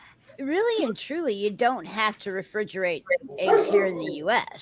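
Dogs yip and bark in the background of an indoor talk show, brief sounds mostly buried under continuous close speech from a host.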